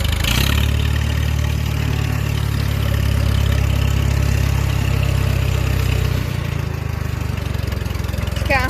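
A Case 700 tractor's engine runs at a steady, loud low rumble while the tractor is being parked, with the note dropping slightly near the end.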